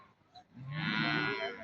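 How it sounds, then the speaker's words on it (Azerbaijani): A water buffalo at a livestock market in Barda, a single loud drawn-out moo that swells and holds close by, preceded by faint background noise. "bir camışı var."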